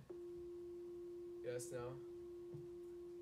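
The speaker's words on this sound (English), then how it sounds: "let's look at this sine wave instead" A steady synthesized sine wave tone hums on and on at constant pitch, with a brief spoken question partway through.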